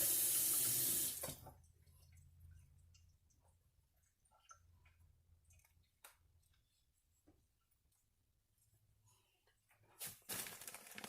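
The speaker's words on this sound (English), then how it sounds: "I'm washing off my spoon." Tap water runs briefly over a spoon in a kitchen sink, a short loud gush at the start, then quiet small clinks and handling, with another brief splash of water near the end.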